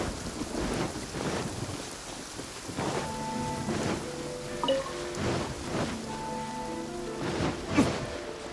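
Rain and thunder in the Genshin Impact game: a steady close downpour with a rolling thunder rumble, while a few soft musical tones ring through the storm.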